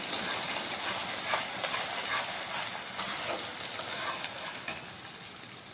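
Finely chopped onion fries in a pan for Kathiyawadi seven-grain khichdi, giving a soft, steady sizzle with a few sharper pops and crackles scattered through it, with no talk over it.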